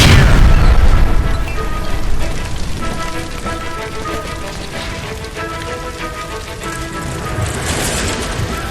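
A gas line explosion in the L.A. Noire video game, a loud booming blast at the start followed by roaring fire and crackling debris that rumble on steadily.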